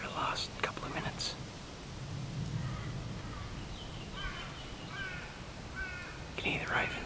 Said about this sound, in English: You can hear the ravens in the background.